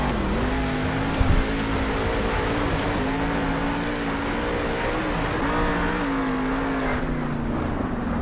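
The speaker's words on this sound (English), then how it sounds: "Final lap for Kristen Anderson here in this Alien Invasion truck." The Alien Invasion monster truck's engine roars at Monster Jam in a Salt Lake City arena: a loud, steady, unbroken drone that holds at full volume for the whole stretch, with slight shifts in pitch.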